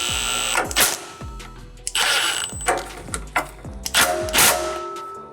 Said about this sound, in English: We'll fine tune this clamp back here.